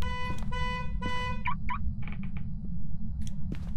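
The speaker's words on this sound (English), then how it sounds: "Car alarm's going off again." A car alarm sounds in the horror video game Phasmophobia, blaring repeated tonal honks and warbling bursts over a constant low rumble, loud and close with no speech.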